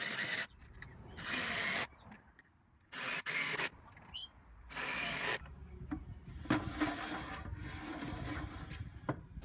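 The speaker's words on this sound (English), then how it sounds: "I attached it to the runners with screws." A saw rig being screwed to its wooden runners, with short bursts of a power driver whirring, wood creaking and rubbing between them, close up with quiet gaps.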